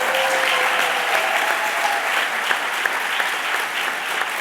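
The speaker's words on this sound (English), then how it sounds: "Give yourselves a round of applause" Steady, dense applause from a large audience at a Bloomberg event celebrating endowments for four historically Black medical schools, a continuous wash of clapping that holds evenly throughout.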